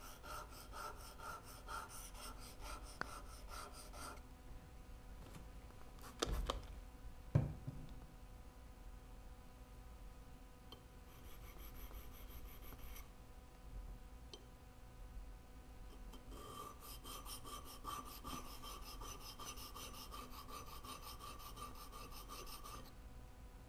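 A new chisel's small bevel is honed on a sharpening stone, giving steady raspy rubbing strokes in long stretches with brief pauses and a couple of sharper knocks between passes, fairly quiet and close.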